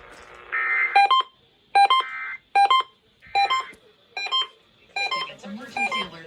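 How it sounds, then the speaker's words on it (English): Emergency Alert System tones from KDKA radio in Pittsburgh: a run of seven or eight short bursts of digital data chirps, each followed by a pause, evenly spaced and clear, with slight background noise near the end. "This concludes this emergency alert system test."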